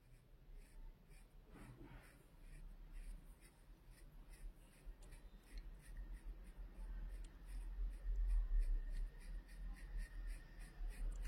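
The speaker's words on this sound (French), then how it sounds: "Je vais déjà colorier cette partie en jaune." A yellow pencil colours in part of a drawing, producing faint, close scratchy strokes in a soft repeating rhythm against quiet background, no voices.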